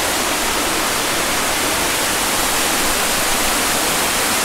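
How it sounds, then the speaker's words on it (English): A mountain waterfall near Chiang Mai makes a dense, loud, unbroken rushing roar that stays even throughout, with no voices over it. "There's loads of waterfalls on the mountain."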